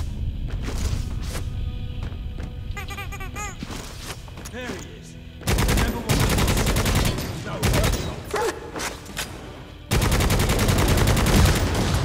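Repeated heavy gunfire and launcher blasts in Necromunda: Hired Gun, a dense, loud barrage of shots and thuds in several bursts separated by brief lulls, with talk over the action.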